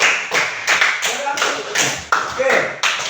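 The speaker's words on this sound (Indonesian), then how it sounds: "Tepuk tangan buat kelompok 4 dulu" Students in a classroom clap for a presenting group, irregular bursts of fairly close hand claps with loud taps and thuds and some voices mixed in.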